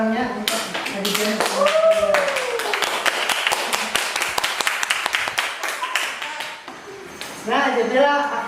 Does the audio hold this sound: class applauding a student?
yes